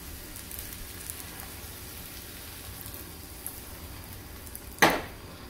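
Crepe batter sizzles softly in a hot, heavily greased pan, a faint steady crackle with a few small clicks and one sharp clatter near the end.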